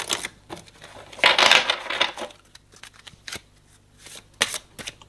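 Tarot cards shuffled and drawn close up: a burst of riffling, then scattered light snaps and slides of individual cards.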